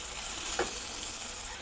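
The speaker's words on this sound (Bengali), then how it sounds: "ভালো করে ভেজে নিব আমি" Ginger paste and garlic paste with chopped green chilies fry in a pan, giving a soft, steady sizzle with a faint stirring scrape partway through.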